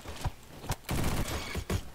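Shooter video game gunfire in a short, close burst: separate sharp shots followed by a denser rattling volley, with no voices.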